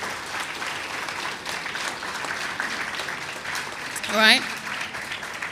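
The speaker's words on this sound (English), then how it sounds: "give Mr. James a round of applause" Audience of parents at a cadet corps enrollment and promotion ceremony applauding for Mr. James, steady moderate clapping throughout, with a brief spoken interjection near the end.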